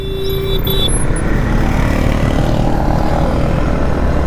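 A Yamaha MT-15 motorcycle ridden off-road on the way to a Yamaha track day, giving a loud, steady engine drone mixed with wind rush that runs unbroken throughout, with no talking.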